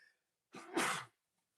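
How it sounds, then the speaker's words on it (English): A single sharp sneeze bursts out after a quick intake of breath, close by, in an otherwise quiet room. "I've been sneezing, getting past a little bit of a cold"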